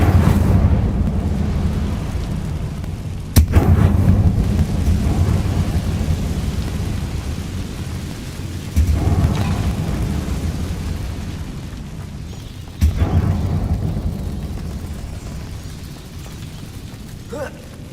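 Incendio fire spell cast in Hogwarts Legacy: heavy rumbling bursts like booming flames or explosions, each sharp onset trailing into a long low roar, with three main blasts over a continuous thundering background.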